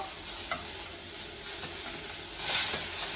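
Chopped tomatoes tipped into onions frying in oil for a paneer curry, giving a steady close sizzle and hiss that swells louder near the end, with faint stirring clinks.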